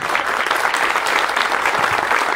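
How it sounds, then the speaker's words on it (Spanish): A dense, even round of applause from an audience gathered for a cultural promoters' meeting at a hacienda, loud and close throughout with no speech over it. "Un aplauso a todos ustedes"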